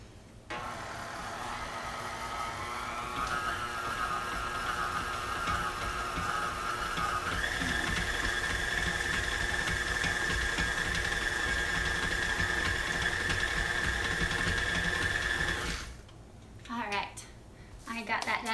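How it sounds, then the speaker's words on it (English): An electric mixer runs continuously through gluten-free flour batter, a steady motor whine that rises in pitch partway through, then stops, followed by brief speech. "I'm gonna mix this for a minute"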